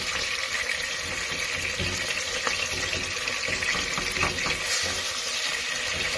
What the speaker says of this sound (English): let it sizzle, let it cook a little bit